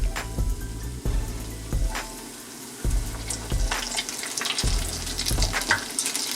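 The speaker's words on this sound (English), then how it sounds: "Coat it the same way. Add it to our fryer." Tempura shrimp fry in a deep fryer of hot oil at 350 degrees, a constant crackling sizzle broken by several sharp bursts and clatters from close by.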